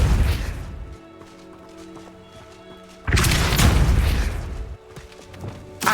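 Depulso spell cast in the Hogwarts Legacy video game, a booming blast that bursts loud at the start, then a second heavier thumping impact burst a few seconds later over a faint game hum.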